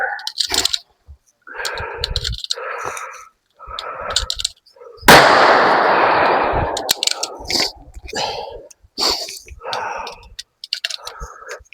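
Suppressed MP5 firing 115 grain standard velocity 9mm rounds: a single loud, dense blast of noise lasting under two seconds, with people talking before and after it.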